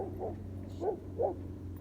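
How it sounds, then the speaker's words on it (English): Dogs bark from behind a fence, three short muffled woofs at moderate distance over a low steady hum, no talking. "There are going to be 4 dogs coming up on my right to bark at us through a fence."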